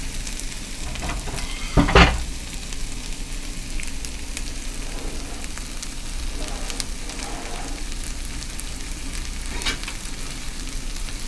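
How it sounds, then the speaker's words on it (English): A tortilla sizzles and spits steadily in hot oil in a pan while green chile chicken enchiladas are prepared, with one louder crackling burst near the start, then a continuous frying hiss. "place our first tortilla inside there. Just want to slide it around a little bit. And get that oil nice and hot"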